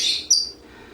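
A pet bird gives two quick, high chirps close by, the second slightly sharper, followed by quiet room tone.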